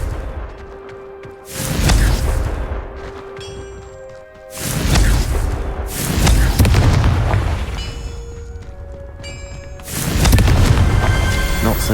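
Confringo explosive spells from Hogwarts Legacy boom out three times at steady intervals, each a loud heavy blast that slowly fades, with sustained musical score tones under and between them.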